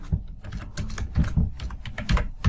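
Typing on a computer keyboard, a steady run of quick, close key clicks with uneven rhythm and no talk.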